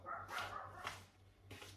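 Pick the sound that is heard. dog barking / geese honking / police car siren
dog barking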